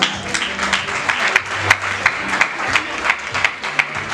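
Wedding guests clap their hands as a pastor comes forward at a Congolese wedding ceremony, a steady, dense round of applause with rhythmic accents, with faint background voices and low music humming beneath.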